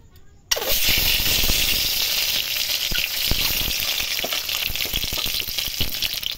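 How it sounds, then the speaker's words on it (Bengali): Oil in a wok, heated for frying eggs, breaks into a loud, steady sizzle after a brief quiet start and crackles continuously with a few sharper pops. "ওই কড়াইয়ে আমি আবার তেল দিয়ে দিচ্ছি, দিয়ে এবার ডিমগুলো ভেজে নেব।"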